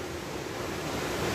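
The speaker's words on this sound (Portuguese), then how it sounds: "A cachoeira ali, ó!" Cachoeira do Curuá waterfall, a steady broadband rush of falling water heard from a distance, even and continuous with some wind buffeting, no voices over it.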